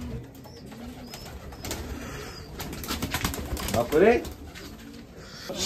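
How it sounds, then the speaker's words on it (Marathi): Racing pigeons released from a shed at a pigeon race in Nashik, with wing flaps and a brief cluster of cooing calls rising near the end over background noise and nearby voices. "आपण सर्व कबूतर बाहेर काढले आणि शेडमध्ये सोडले होते"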